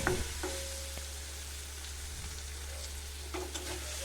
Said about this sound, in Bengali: এই পেঁয়াজের সাথেই যা ভাজা হওয়ার হবে